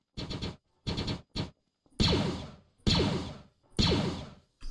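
Gunfire in a Garry's Mod Star Wars roleplay server: a quick burst of rapid shots, then three louder, echoing blaster-like blasts spaced about a second apart, fairly close and alone.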